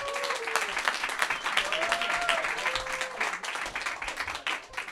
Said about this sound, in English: clap if you guys think the winner of this battle is Diego Mata.